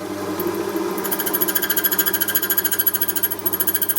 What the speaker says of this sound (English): So this is a brand new key blank here, and we'll hear it cut now.